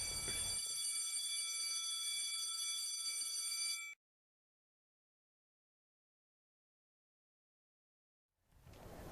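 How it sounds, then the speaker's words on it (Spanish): A school dismissal bell rings with a bright, continuous metallic tone for several seconds and then cuts off abruptly, leaving silence before a low noise creeps back in. "Es hora de tocar el timbre de salida."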